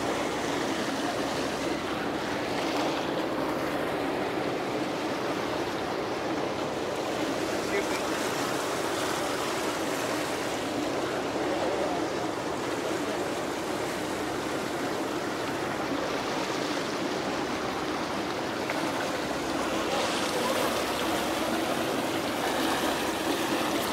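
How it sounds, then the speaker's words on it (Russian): A ferry pulling away across the ocean toward Delft Island off Jaffna, Sri Lanka, with steady broadband water wash and engine rumble continuing throughout, a constant close roar that does not let up. "Вот мы сели на паром и отчаливаем"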